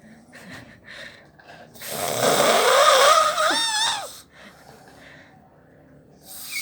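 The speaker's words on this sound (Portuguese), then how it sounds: "Ele acha que não ronca." A man snores after heavy drinking, one long rasping snorting inhalation that rises loud and close mid-clip and then fades, with quieter breathing on either side.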